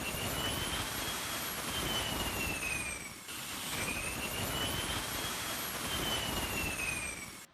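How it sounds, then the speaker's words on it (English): C-17 military transport aircraft jet engines after touchdown, a loud, continuous roar with high whining tones that slide in pitch, briefly dipping midway before swelling again. "the C-17 aircraft touched down, and the unloading process began immediately"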